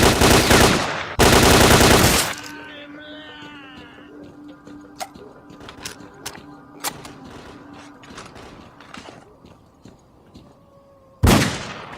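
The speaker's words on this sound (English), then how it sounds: "Especially not the guy who's still popping a shotgun off at us." Shotgun fire in the S.T.A.L.K.E.R.: Clear Sky game: two loud, close blasts open the scene, then quieter clicks and mechanical creaks, and another heavy shot near the end.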